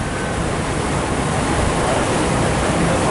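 Chicago River water pours steadily through the opened lock gates in a constant, loud, full-bodied rush that holds evenly throughout, with no talking.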